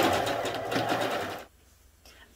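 Sewing machine stitching a seam on a NICU baby gown, with a close, fast mechanical whirr lasting about a second and a half before it stops abruptly into near silence.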